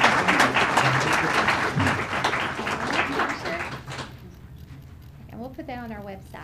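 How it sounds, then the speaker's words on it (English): Applause from the audience at a school board of education meeting fills the room for about four seconds, then fades out as a voice speaks. "And let's give them a big round of applause."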